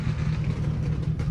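Loud, steady low engine rumble from a Scat Pack drag car at Carolina Dragway, holding a pulsing, throaty drone nearby for the whole stretch.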